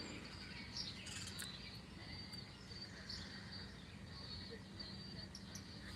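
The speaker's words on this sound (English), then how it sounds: "Spent a lot of time out here the last few years feeding the birds" Wild birds chirp at a backyard feeder, with faint, scattered tweets over a soft bed of insect or cricket buzz, heard at a distance with no talk.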